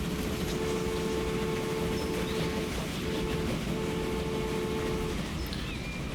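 A train running in Transport Fever gives off a constant low rumble with a humming engine tone that holds steady, then drops out briefly near the end.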